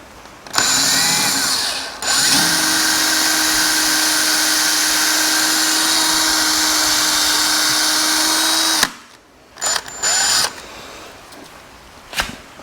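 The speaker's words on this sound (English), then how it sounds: "I don't think I've drilled into it enough." A power drill bores into a snapped suspension bolt on a car, running loud and steady for several seconds, with a brief start, a pause, then a long continuous whine before stopping and a few short bursts at the end.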